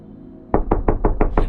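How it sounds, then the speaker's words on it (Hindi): Six quick, loud knocks on a door in an even rhythm, heard up close after a moment of quiet, in a horror story setting. "दरवाजे पर फिर से दस्तक की आवाज आती है। इस बार आवाज और तेज और मार्मिक है।"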